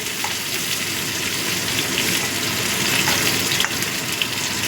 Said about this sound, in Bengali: কুমড়োটাও ভালো মতো ভাজা হয়ে গেছে